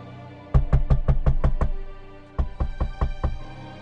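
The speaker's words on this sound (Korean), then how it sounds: "하고 문을 두드렸습니다." Knocking on a door for a horror radio story, two close, loud bursts of sharp raps: six quick knocks, a pause of under a second, then five more in the same even rhythm, with no voices.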